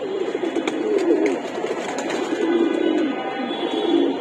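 Soft, rolling pigeon coos repeat steadily at close range through the whole stretch, a homebred racing pigeon making low throaty calls over faint background noise.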